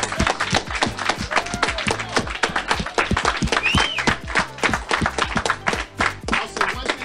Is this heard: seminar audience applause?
yes